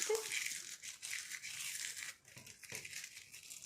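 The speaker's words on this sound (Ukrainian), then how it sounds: "Листочок треба зім'яти." A dried autumn leaf crumpled by hand for a craft picture, giving soft, close crinkling and crackling in faint, steady bursts with brief pauses.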